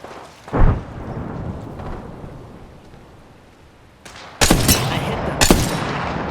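A frag grenade goes off in the Apex Legends shooter: a sharp blast early, then a later cluster of loud booming bursts with rumbling tails, no voices.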